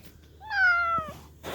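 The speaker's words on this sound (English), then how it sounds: "Honorary shop cat Morgan has come over to visit from the neighbors." A cat visiting a workshop gives one clear, drawn-out meow close by, followed by a soft thump.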